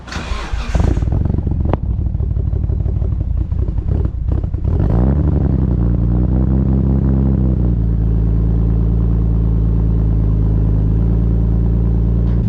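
A Nissan Skyline engine cranks and fires, then settles into a loud, steady idle with a deep, even rumble that holds close and alone to the end.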